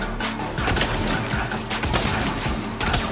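Dense, continuous gunfire from the Saints Row video game, with sustained rapid shots and bursts filling the whole stretch at steady loudness inside a museum exhibit setting.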